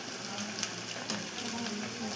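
Chicken pakoda pieces fry in hot oil with a continuous soft sizzle and faint crackling pops, steady and fairly quiet throughout.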